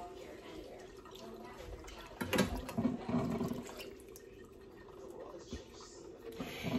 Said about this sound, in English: I'm gonna put just a little water to get the bottom